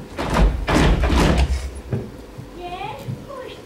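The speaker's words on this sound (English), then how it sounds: "He knocked 3 times on the little front door." Three firm knocks land on a small front door in an even, steady rhythm, each a loud, dull thud, followed by quieter room sound and faint voices.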